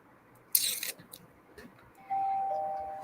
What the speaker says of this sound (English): Well, ding dong is a doorbell. It's a trend line being crossed.